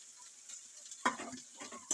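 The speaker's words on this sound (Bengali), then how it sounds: "ভালো করে মশলাটা কষিয়ে নেব" Spice paste of garlic, ginger, coriander and cumin being stir-fried in oil, heard as a quiet sizzle with a sudden burst of sputtering and scraping midway, followed by softer crackles.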